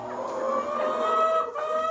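Laying hens cluck in a coop, a close, continuous chorus of overlapping tonal calls with a few sharper squawks rising above.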